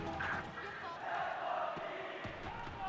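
Esports arena crowd at a tournament match, a broad sustained roar of cheering and shouting voices that swells and holds steady throughout, dense and fairly loud, with no clear speech standing out.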